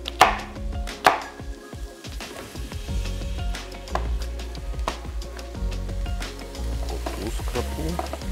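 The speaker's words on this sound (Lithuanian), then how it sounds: "Pirmą paskrūdinsim svogūnus." Onions cook in a pan for a beef stew with beer, a steady low sizzle under sharp knife chops and utensil knocks close by in a kitchen.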